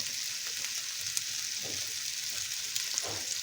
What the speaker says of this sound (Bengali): আলুগুলোকে আমরা একসাথে মশলার সাথে কষবো